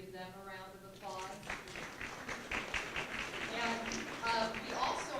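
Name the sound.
audience applause for staff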